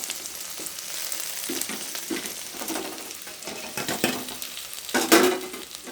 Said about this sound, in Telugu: తర్వాత ఈ బెండకాయ ముక్కలు అందులో వేసి మొత్తం బెండకాయ ముక్కలు వేసి ఒకసారి సింపుల్గా అలా గోలించాలండి